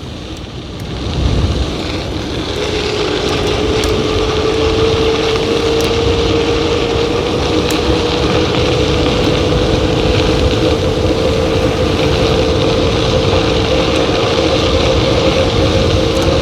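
A 26-inch electric bike with a 500W Varstrom front geared hub motor running on throttle gives a steady rising whine under heavy wind rush and road noise, continuous and close.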